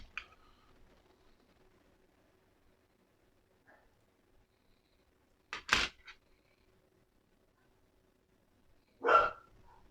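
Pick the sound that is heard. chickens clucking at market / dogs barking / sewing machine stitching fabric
dogs barking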